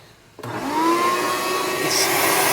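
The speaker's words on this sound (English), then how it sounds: "So we fire up the vac." A shop vacuum switches on abruptly in a car restoration workshop and quickly spins up to a loud, steady whine with a rushing airflow roar.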